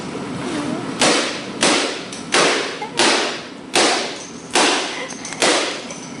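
A laptop being beaten, giving about seven loud, sharp whacking thuds spaced roughly every half to three-quarters of a second, each ringing briefly before the next blow, with no talking.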